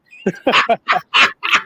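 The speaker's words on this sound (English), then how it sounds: "that's not a car, that's a dog." Dog vocalising in short bursts, about five yelps or whines in quick succession, close and fairly loud, with no talk over it.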